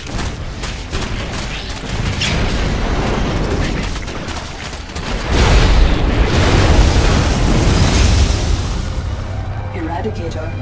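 A replicator blows up in StarCraft II, a loud booming blast that swells midway through and rumbles on amid game sounds and spoken voices.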